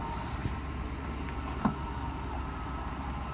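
A Mercedes 600SL engine runs steadily at idle with a continuous low rumble, fairly loud and close, with a faint clunk partway through.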